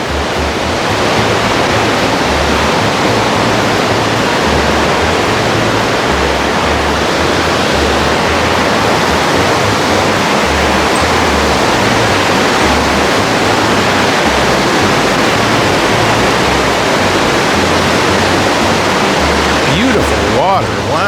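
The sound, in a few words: rushing water in Little Huson Caves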